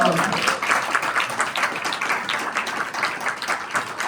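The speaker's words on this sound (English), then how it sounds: "I think we should give an applause to Tina." Sustained audience applause at an emotional press conference, dense steady clapping from a sizable crowd filling the room at even loudness, with faint voices mixed underneath.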